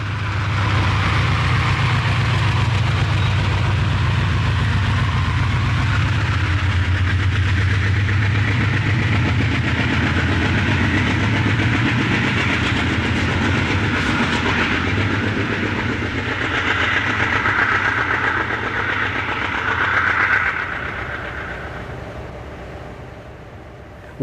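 An NJ Transit U34CH diesel locomotive rumbles loud and near with a steady low engine drone, while wheels clatter on the rails over the top. The sound eases off and fades toward the end. No voices.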